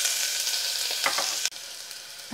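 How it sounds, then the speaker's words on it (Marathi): Finely chopped onion fries in hot oil inside a pressure cooker, giving a steady, close hiss of sizzling with a few soft stirring bumps and a brief dip in the sound. "आता तेल छान तापले की आता आपण एक छोटा कांदा बारीक कापलेला घालायचा"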